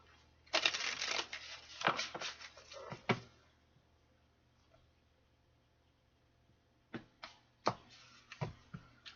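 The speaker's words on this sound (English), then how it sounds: "Okay, one more shuffle." A tarot card deck is shuffled in two quiet bursts of crisp riffling and slapping, separated by a few seconds of near silence.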